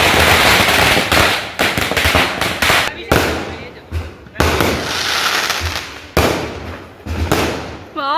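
Diwali firecrackers in a village launch and burst in rapid, loud crackling volleys, with short pauses and a rising whistle near the end, while people talk and shout nearby.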